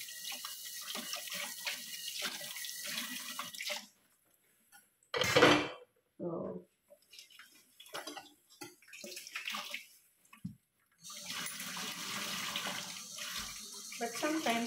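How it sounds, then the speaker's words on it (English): Hot water runs from a kitchen tap while vegetables such as potatoes and pumpkin are washed; a steady splashing stream fills the start and end, broken in the middle by brief clatter and quieter handling. "But I use hot water to remove also the germs."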